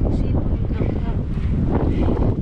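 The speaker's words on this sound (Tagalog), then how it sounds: "Malakas ang hangin." Strong wind buffets the microphone at a coastal spot near the water, producing a constant low roaring rumble with gusty swells, while voices talk faintly underneath.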